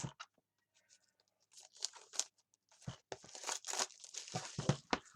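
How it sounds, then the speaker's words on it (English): Scissors snip and slice through tight plastic shrink-wrap on a wrestling card box set, with crinkling and tearing of the film in irregular close bursts after a quiet start. "So this is a really nicely shrink-wrapped thing here, so we're going to actually have to use some scissors this time."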